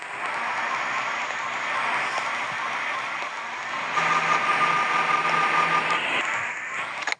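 An old Zhiguli car's engine runs steadily just after starting, a constant mechanical hum and rattle that grows somewhat louder midway and holds without voices.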